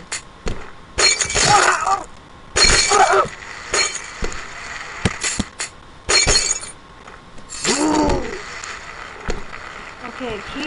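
Glass breaking and shattering in the Happy Wheels video game, several loud crashes with clinking debris over a few seconds, with a person talking and exclaiming over and between them.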